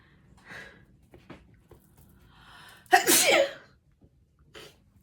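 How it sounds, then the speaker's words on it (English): A loud, sharp sneeze bursts out midway, preceded by faint breathy sounds and small clicks in an otherwise quiet room. "I have to sneeze."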